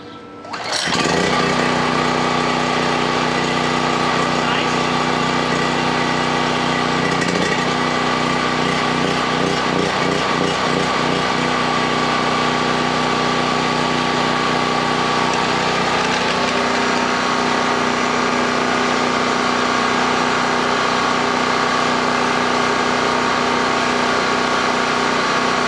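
A generator engine starts and runs continuously at a steady, loud drone for the whole stretch, with a brief shift in tone partway through and no talking.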